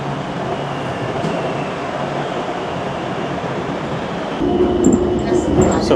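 A Bangkok Golden Line train runs steadily, a continuous rail rumble with a faint hum heard from on board, swelling slightly louder near the end with light squeals.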